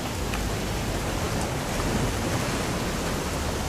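Steady rain falls in What Remains of Edith Finch as an even, unbroken wash of hiss, moderately loud and constant from start to finish, with no voices.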